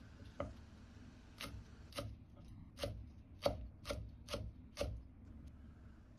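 A knife chops garlic sprouts on a cutting board in about eight crisp, evenly spaced strikes, close and clear against a quiet kitchen background.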